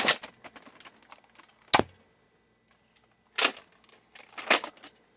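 A Nerf blaster being fired: a few sharp plastic snaps and clacks arrive in separate bursts, with short quiet gaps between the pump-and-fire actions.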